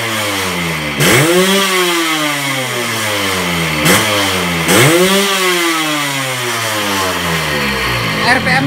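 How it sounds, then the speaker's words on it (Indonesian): A Yamaha RX King two-stroke motorcycle engine, its membrane tuned and block ported, is revved hard three times, each rev climbing quickly to a sharp, buzzy scream before dropping back to a rattly idle, recorded up close. "RPM-nya dia naiknya cepet banget."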